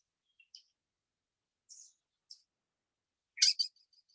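A raptor call played back from a recording: a few sparse, faint high-pitched chirps followed by a louder, sharper burst of calls near the end, with silence between them and no talking.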